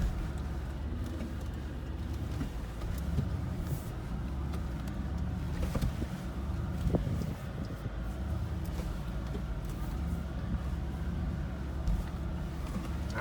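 A 2019 Mercedes G63 crawls over rough obstacles at about three percent throttle, a steady low engine rumble with faint scrapes and knocks of the off-road terrain, heard alone without voices.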